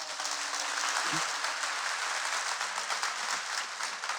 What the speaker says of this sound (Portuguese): Dá uma melhor salva de palmas.